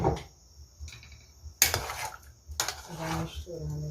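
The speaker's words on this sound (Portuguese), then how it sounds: "Vai misturando aqui." A spoon clinks and scrapes against a cooking pan while food is stirred, several sharp metallic knocks standing out among softer scraping, close and moderately loud.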